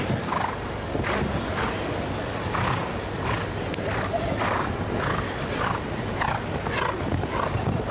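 Horse hooves thudding across the arena during a 1.60 m show jumping round at the Global Champions League of London, heard as rhythmic muffled beats under a constant crowd and arena murmur.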